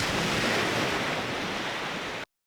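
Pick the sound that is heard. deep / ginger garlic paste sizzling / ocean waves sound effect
ocean waves sound effect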